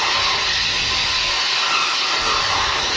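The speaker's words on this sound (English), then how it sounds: "That's the sound of a battery-powered saw under an SUV." Battery-powered saw cutting a catalytic converter from beneath an SUV, a continuous loud, harsh high-pitched grinding hiss throughout.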